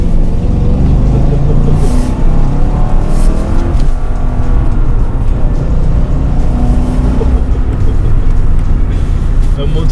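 A supercharged 475 hp Mercedes AMG engine droning loud and close from inside the car, a sustained deep growl with slight rises in pitch, mixed with someone talking over it.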